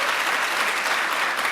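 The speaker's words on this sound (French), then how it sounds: "tout le public va commencer à applaudir et faire trembler tous les murs" A studio audience applauds at a French TV game show, a dense steady roar of clapping that holds evenly for the whole moment.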